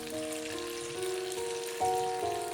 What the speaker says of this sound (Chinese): 豆腐煎至一面金黄后翻个面